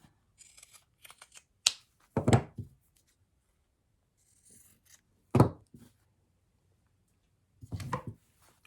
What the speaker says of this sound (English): now I'm going to use my pinking shears to cut this out